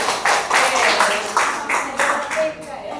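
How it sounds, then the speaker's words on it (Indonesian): A classroom group claps for students who have just answered a teacher's questions about language skills, a dense burst of hands in a small room that swells in waves and thins toward the end. "Tepuk tangan dulu"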